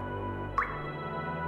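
A single drop of water falls with a clear, brief plink over a steady low background hum, part of a water-saving message about dripping water.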